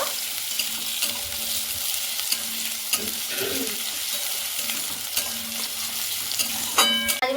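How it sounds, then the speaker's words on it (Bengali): Chopped onion frying in white oil for a vegetable soup, a steady soft sizzle with occasional stirring scrapes and a few utensil clinks near the end, no talking. "এবার আমি দিয়ে দিচ্ছি পেঁয়াজি পেঁয়াজ কুচিটা হালকা করে ভেজে নেব"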